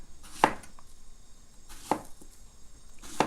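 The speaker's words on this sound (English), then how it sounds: "The other one, I'm going to cut in little chunks, like so." A knife cuts plantain into small chunks on a board in three sharp, separate chops about one and a half seconds apart, close and clear against a quiet background with no talking.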